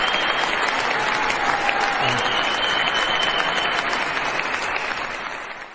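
Sustained, loud crowd applause at a political speech, a dense wash of clapping with some cheering that holds steady for several seconds and fades slightly at the end.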